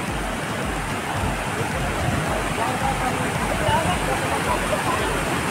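Sukhdari waterfall near Varanasi, a steady broadband rush of falling water filling the scene, with faint voices of visitors in the background.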